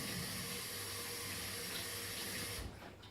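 Tap water runs steadily over Chinese leaf being washed in a sink, a continuous close splashing rush that cuts off near the end.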